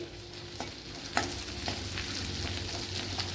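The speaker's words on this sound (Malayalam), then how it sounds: "ഇത് നല്ലപോലെ ഒന്ന് മൂത്ത് വരണം ശകല ഓയിലൂടെ ചേർത്ത് കൊടുക്കുക" Crushed garlic and small pieces of crushed ginger fry in sesame oil, giving a steady close sizzle with a few stirring scrapes and clinks on the pan.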